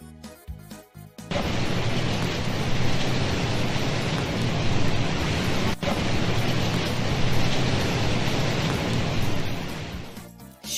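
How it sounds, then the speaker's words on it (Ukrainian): Steady, dense rain hiss fills the space, constant and fairly loud, starting abruptly after a brief moment of other sounds and continuing evenly throughout. "Так, це йде дощ."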